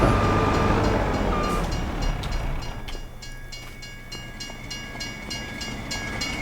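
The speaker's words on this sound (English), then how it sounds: "An old diesel locomotive with old." An old diesel locomotive in the Farming Simulator 25 video game rumbles steadily up close, with a low engine drone and rail noise that ease slightly in loudness over a few seconds, with no talking.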